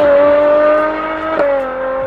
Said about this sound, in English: this here is connected to that naturally aspirated V12